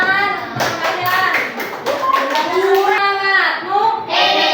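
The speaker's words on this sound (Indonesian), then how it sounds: "Silakan tepuk tangan." A fifth-grade class in a school classroom claps hands together, the applause running continuously under loud, overlapping children's voices shouting and chanting.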